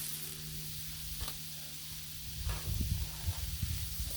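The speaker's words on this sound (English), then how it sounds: "Onion, oh, the onions and the peppers on the griddle." Onions and peppers sizzle on a Blackstone griddle, a soft steady hiss with a few brief scraping bumps near the end, faint and with no talk.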